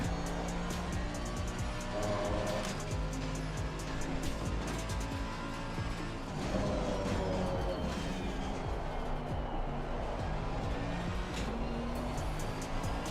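A race car's engine in Assetto Corsa Competizione drones continuously and loudly, rising and falling in pitch as it shifts gears and rolls through corners on a racing lap.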